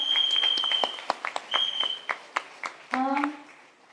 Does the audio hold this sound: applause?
yes